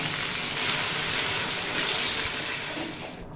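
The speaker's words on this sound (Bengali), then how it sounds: "আর এড করে দেব পরিমাণ মতো গরম জল।" Hot water is poured into a simmering mutton curry with young papaya, giving a continuous, close hiss and rushing splash that holds steady for a few seconds. It then eases off slightly at the end.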